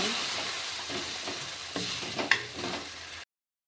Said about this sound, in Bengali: পেঁয়াজ বাটা সবটাই দিয়ে দেবো সোনালি করে ভালোভাবে ভেজে নেব